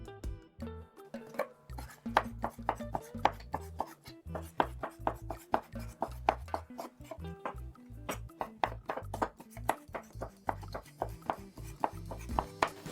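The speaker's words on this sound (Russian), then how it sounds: "Старайтесь резать кальмары потоньше." A knife slices squid into thin strips on a cutting board, a quick even rhythm of close, crisp taps continuing throughout without any talking.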